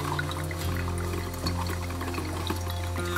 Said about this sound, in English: but it's raining, and it's rained solid for coming up on 24 hours now.